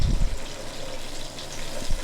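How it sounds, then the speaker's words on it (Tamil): Water splashes as a glass of it is poured into a Tamil poricha kuzhambu with drumsticks and sautéed onions, a steady gushing pour of about two seconds, close and fairly loud. "இதுக்கு ஒரு கிளாஸ் தண்ணி விட்டு இதை வேக வச்சிடுவோம்."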